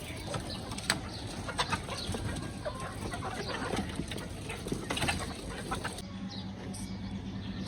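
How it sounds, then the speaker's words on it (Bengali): Chickens cluck and chatter on a rooftop chicken farm, a busy flock of small calls and scratchy sounds at moderate distance, fairly faint, with a brief near-silence toward the end. "আপনারা দেখতেছেন আমার মুরগির খামার"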